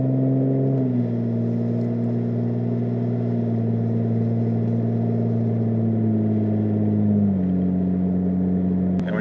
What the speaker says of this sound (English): Alright, we'll test throttle response here.